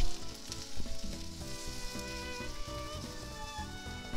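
Egg sizzles steadily in an oiled round frying pan while a Japanese dashi rolled omelette is folded, with music-like tonal layers over the continuous frying hiss.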